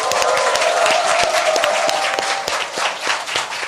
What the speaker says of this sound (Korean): 여러분의 힘찬 박수와 환호와 함께 시작하겠습니다.